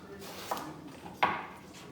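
A knife slices through an English eggplant in two crisp cuts, the second louder, close up in a quiet kitchen.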